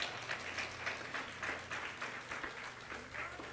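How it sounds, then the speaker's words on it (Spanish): Faint applause from a church congregation, a steady patter of many hands clapping, heard from a distance with a low hum underneath. "Un fuerte aplauso para el Señor."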